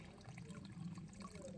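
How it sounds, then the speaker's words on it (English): A natural spring seeps out of the ground beside a trail in the Great Smoky Mountains, giving a faint, soft trickle of water that stays steady and gentle throughout. "And the water is just leaking out of there from the ground."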